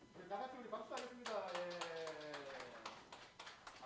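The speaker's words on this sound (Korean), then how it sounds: "다 같이 우리 박수하겠습니다." A church congregation claps together during a Christmas Sunday service, a dense run of overlapping hand claps rising and fading over a few seconds, with a sustained voice or tone underneath.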